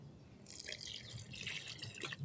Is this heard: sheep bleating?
no